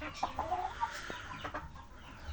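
Chickens and a short-legged white rooster in a coop, giving a few soft, scattered clucks and calls, quiet and close against low background noise.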